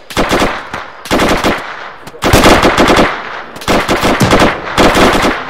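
Rapid bursts of machine gun fire from a military video game, loud and close, coming in several sustained volleys separated by brief pauses.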